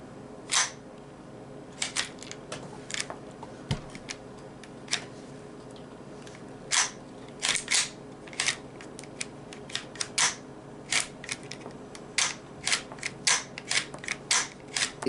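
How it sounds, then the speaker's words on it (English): Ruger 10/22 rifle action worked by hand, cycling rounds from an MWG teardrop magazine: a string of sharp metallic clicks and clacks, scattered at first then in quick bunched pairs, close up with no talking. "I'm just going to see how it is going to cycle through the shells"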